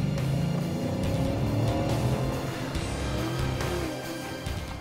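A 2015 Dodge Challenger SRT's engine drones in a steady, heavy roar that rises and falls slightly under acceleration, a continuous low rumble heard from inside or near the car.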